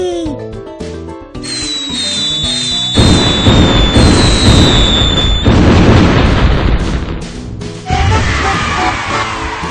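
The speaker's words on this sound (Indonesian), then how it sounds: "menggunakan kembang api." Booming fireworks bursts with crackling pops layered over a bright electronic children's game soundtrack and chiming effects, with cheering voices near the end.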